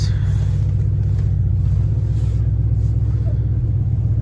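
A 1987 Ford Econoline E350 conversion van idles after a cold start, a loud steady low engine rumble close by, unbroken throughout.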